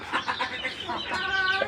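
Hens kept together in a small group, silkie-type chickens among them, cluck and chatter close by in a quick, irregular string of calls that rises into a longer drawn-out squawk near the end.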